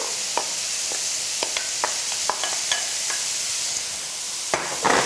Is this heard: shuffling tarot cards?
no